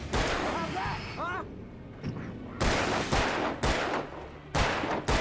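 Gunfire in the video game Alan Wake comes as several loud, booming shots spaced about a second apart, close and heavy, with a voice talking over the opening moments.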